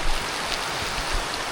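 Steady rain falls at Danau Quarry Rumpin, a lake formed in a former mining pit, making an even, continuous hiss of drops with no voices.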